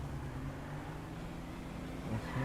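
A car drives in the video game GTA 5, its engine giving a steady, moderately loud drone with slight revving toward the end and no voices.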